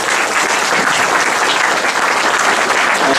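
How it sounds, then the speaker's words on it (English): A large audience claps steadily and loudly for a panel at a Mobile Monday Silicon Valley mobile imaging event, dense continuous applause with no voices over it. "I guess we'll give a hand of applause to the panel."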